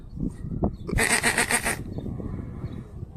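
A single loud, wavering sheep bleat on a farm, lasting about a second, standing out over a low rumble of background noise.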